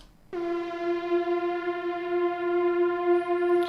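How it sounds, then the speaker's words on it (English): A steady sustained synth pad tone with rich harmonics from a drum and bass track enters after a brief pause and holds evenly throughout, alone without any voices. "So we have this pad here that goes through most of the track."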